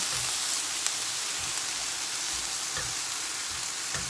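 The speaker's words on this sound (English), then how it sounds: "Now I will take the sauce that I just made and add it right into my pan" Sauce poured over a tofu scramble in a hot pan sets off a steady, close hiss and crackle of sizzling, with a few soft stirring bumps.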